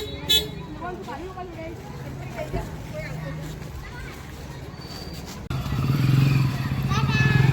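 A motorcycle ridden off from a family gathering: voices talk over a low idling hum, then the engine swells and revs up close as the bike pulls away.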